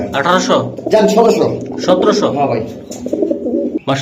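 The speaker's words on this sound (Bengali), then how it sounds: "ভাই এই যে একটা কবুতর আছে পাইক স্টাইলের খুবই সুন্দর" Pigeons, including racers, coo softly and repeatedly under continuous close-up talking, their low throaty calls mixing with the voices.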